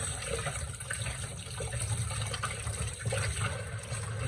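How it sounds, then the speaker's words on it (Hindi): Hot water running steadily from a tap into a sink, poured for bathing a household temple deity, a continuous close gush with no talk. "गर्म पानी मैंने चला दिया है ठाकुर जी के स्नान के लिए।"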